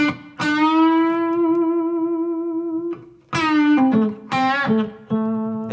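A Telecaster electric guitar played clean through an amp rings out single sustained notes with gentle vibrato, followed by a quicker run of plucked notes that decay between attacks.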